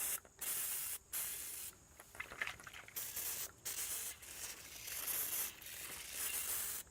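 Bursts of hissing spray from a garden sprayer applying a milk solution to plants against downy mildew, close and quiet, repeated in short pulses separated by brief pauses.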